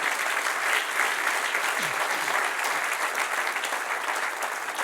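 A church congregation breaks into steady, dense applause at a Spanish-language evening service, the clapping sustained and fairly loud throughout with no voices over it.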